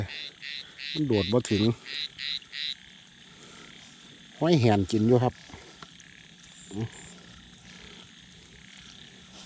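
Frogs call in the rain during an outdoor frog-hooking trip, short pulsing croaks repeating over a steady insect drone while someone talks nearby in between.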